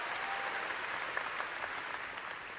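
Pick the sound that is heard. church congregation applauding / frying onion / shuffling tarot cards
church congregation applauding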